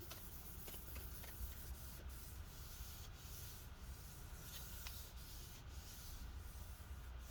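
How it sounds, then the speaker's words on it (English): Gigabyte Aero 15 laptop cooling fan running after startup, a steady, faint airy whir with a slight rubbing hiss that holds at an even level throughout, with a few soft ticks on top and no talking. "The fan still makes a little bit of noise, but nowhere near as bad as what it did."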